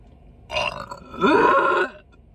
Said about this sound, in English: She makes me burp.